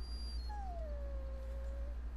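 A Mabari war dog in the video game Dragon Age: Origins whimpers once, a single long thin whine that slides downward and then levels off, heard clearly over a low steady background hum.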